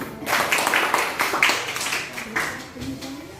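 Classroom clapping for a student group, a loose scatter of hands clapping at moderate loudness for a few seconds, mixed with light talk in the room.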